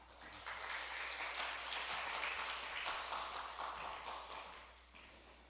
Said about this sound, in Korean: 여러분 크게 환영하는 마음으로 박수로 맞아주시기 바랍니다